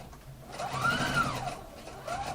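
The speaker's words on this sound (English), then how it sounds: "And continue sewing" A sewing machine stitches a square neckline, its motor whirring up and down in a rising and falling hum with a rapid needle chatter, fairly quiet and close.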